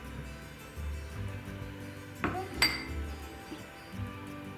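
A plastic lid snaps onto a blender jar filled with almond milk ingredients, giving two sharp clicks in quick succession over a quiet kitchen background.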